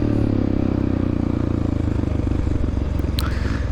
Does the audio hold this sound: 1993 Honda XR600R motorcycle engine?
yes